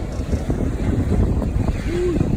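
Heavy wind batters the microphone in Port Antonio, Jamaica, in a loud, low, rumbling roar. The buffeting pulses unevenly throughout the short stretch.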